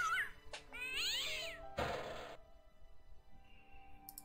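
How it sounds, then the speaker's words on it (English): Cats meow in the Broken Sword 1 video game, with a couple of drawn-out wavering meows close up, then a short noisy burst and a faint tail. "Kitty cats!"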